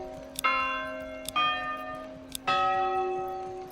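A church bell in the game Manor Lords sounds three times at a steady pace, each clear metallic strike trailing off into a long humming ring that overlaps the next, with no talking over it.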